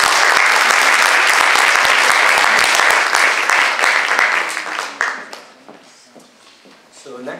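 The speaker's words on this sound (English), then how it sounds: "Round of applause." Audience applause at a candidates night in an Oakridge High School hall, a loud dense burst of many hands clapping that thins out and fades toward the end, leaving scattered claps and room noise.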